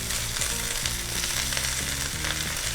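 Ginger sizzles and fries loudly as it is added to browned beef shank in a hot pan for a Chinese braise, a dense steady crackle with stirring scrapes underneath.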